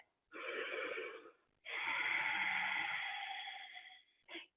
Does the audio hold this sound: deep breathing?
yes